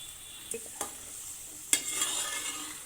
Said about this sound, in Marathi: हे व्यवस्थित मिसळून घेणार आहोत